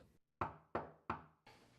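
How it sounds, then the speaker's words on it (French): Three sharp knocks on a door at an even pace, close and crisp in a quiet room, with a softer rustle after them. "cogne à la porte"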